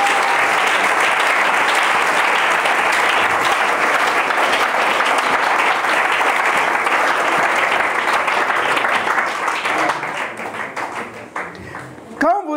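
A church congregation applauds loudly and steadily in praise, a dense sustained wash of clapping that thins and fades toward the end, with voices mixed in.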